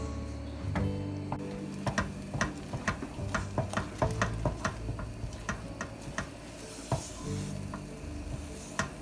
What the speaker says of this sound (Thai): คอยคนแล้วก็คอยปั่นนะคะเพราะว่าไฟที่เราใช้เนี่ย ค่อนข้าง กลางไปทางแรงอะค่ะ